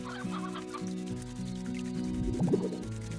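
Chickens clucking in the video game Slime Rancher, steady low clucks and a short burst of excited squawks against a soft musical backdrop.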